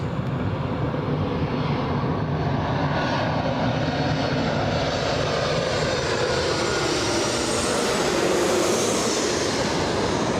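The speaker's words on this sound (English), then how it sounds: "Flight 737 about to go overhead." A Boeing 737 passes overhead near Los Angeles International Airport, its engines making a loud, continuous roar that builds slightly toward the end.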